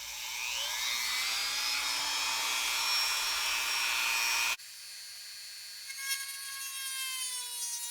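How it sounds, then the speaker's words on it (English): A Dremel rotary tool drills a hole in a cotton wood tree model for a river diorama: a loud, high-pitched steady whine for about four and a half seconds, then it cuts off abruptly and a quieter whirring spin-down continues alone. "I just drill a hole. In this case, I use a Dremel."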